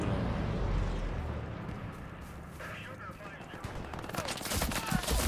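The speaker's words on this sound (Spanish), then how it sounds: "No sé de dónde disparan" Gunfire crackles in the World War II shooter Hell Let Loose, with scattered distant shots that build into louder rapid bursts near the end, under a murmur of voices.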